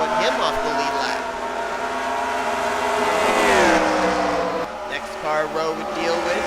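Race cars circle the Dodge Motordome oval in a NASCAR-style racing video game, engines droning and whining continuously with rising and falling pitch as cars pass, while a commentator talks over them.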